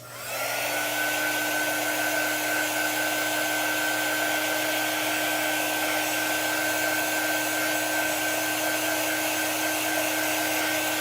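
A handheld hair dryer blows steadily on wet chalk paste over a stencil project, a loud, even whir with a constant high whine that runs unbroken from start to finish, with no voices.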